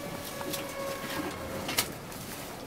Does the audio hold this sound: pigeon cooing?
yes